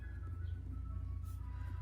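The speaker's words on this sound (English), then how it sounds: "the ice cream truck's going by, so you might be able to hear the ice cream truck through these videos" An ice cream truck passing by outside, its faint jingling tune drifting over a low engine hum, distant and quiet.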